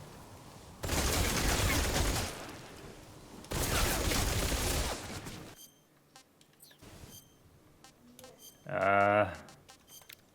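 Rocket launcher fire in Metal Gear Solid 3, two loud roaring whooshing bursts a couple of seconds apart, then softer clicks and a short buzzing tone, with a player's voice talking at times.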